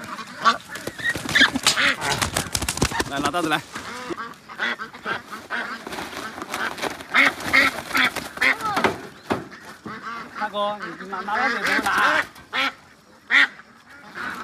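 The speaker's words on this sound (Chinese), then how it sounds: "你看这鸭子就有反应了" A flock of farm-raised ducks quacking near and far, with frequent overlapping calls and a few honk-like cries, under and between the talk of two men.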